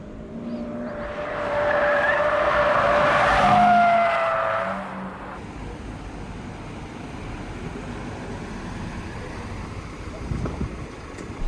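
An older-model Toyota 86 driven hard on a race circuit swells past loudly with engine roar and tyre squeal, then fades into wind and distant track noise.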